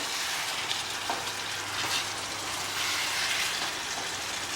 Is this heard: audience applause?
no